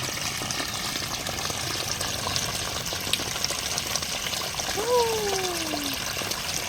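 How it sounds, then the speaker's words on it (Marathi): Water trickles and flows steadily nearby, a constant gentle rushing with a brief whistle-like tone partway through. "मला पाण्याचा आवाज कॅप्चर करायचा, रेकॉर्ड. मस्त आहे ना, वाहतोय."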